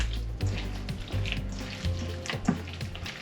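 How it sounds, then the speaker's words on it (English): Bare hands squish and knead a wet meatloaf mix of ground meat, milk and eggs, giving repeated soft squelching, slapping pulses with faint crackling wetness, close and steady without talk. "You just kind of squish and put everything together."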